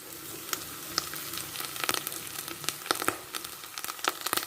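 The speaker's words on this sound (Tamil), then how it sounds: "தேங்காய் துருவில் சேர்த்துட்டு நல்லா வதக்கி விட்டு வரலாம்" Grated coconut sautéing with onions and plantain in a pan, a steady soft sizzle broken by frequent spatula scrapes and clicks, close and fairly quiet.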